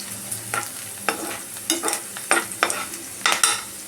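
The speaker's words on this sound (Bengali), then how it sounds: "রসুন কুচিগুলো দিয়ে একটু নাড়িয়ে নেব" Chopped garlic and softened bell peppers get stirred in a frying pan, with repeated scraping spatula strokes about every half second over a sizzling bed, close and without talk.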